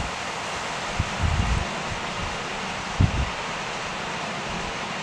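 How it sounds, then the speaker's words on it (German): Steady broadband wind noise rushes across the microphone on an overcast day at a gravel-pit lake while carp fishing, with two brief low buffeting gusts standing out. "keine Sonne, windig."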